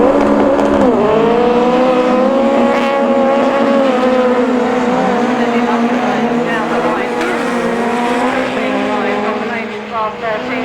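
Autograss race cars at a St Neots meeting in 2012 roar continuously, their engine notes rising and falling together as a commentator talks over the loud racing.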